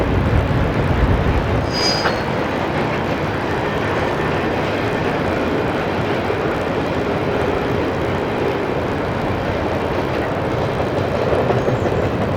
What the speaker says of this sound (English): Amtrak's westbound Wolverine rolls across the Huron River Bridge.